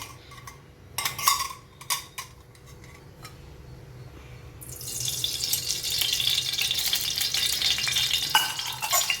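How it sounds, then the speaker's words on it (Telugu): Oil goes into a pan for a ridge gourd peel and red chilli chutney, with a few early clinks and handling noises before a steady, close frying sizzle sets in and holds through the second half. "ఫస్ట్ మనం 4 టేబుల్ స్పూన్స్ నూనె వేసుకోవాలి."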